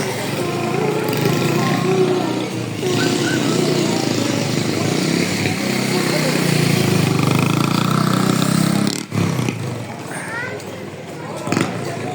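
Motorcycles on Mall Road in Murree on a cold January night, a steady engine drone and rumble of passing bikes under continuous street noise, with people talking throughout.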